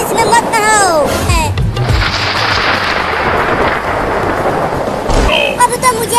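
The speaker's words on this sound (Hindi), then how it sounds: "अरे चिंटू और चिंकी ज्यादा बारिश में मत नहाओ" Heavy rain pours in a village setting as booming thunder rolls and crashes, loud and close, with the downpour hissing steadily between the blasts and voices breaking in briefly.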